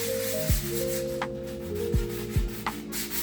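Back-and-forth scraping rubs across kitchen cabinet doors being sanded, a steady abrasive hiss with a few sharper strokes, close by and with no talking.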